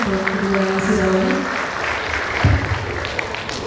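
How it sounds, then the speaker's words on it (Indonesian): An audience breaks into sustained applause at a graduation and oath-taking ceremony at Politeknik Bhakti Kartini. Loud, continuous clapping briefly overlaps a tonal sound at the start. "kita beri tepuk tangan sekali lagi yang paling meriah untuk kedua wisudawan"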